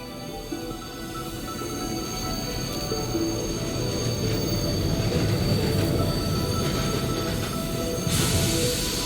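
A video game train arriving at a station rumbles steadily with a long metallic wheel squeal, a continuous heavy rolling noise and no voices.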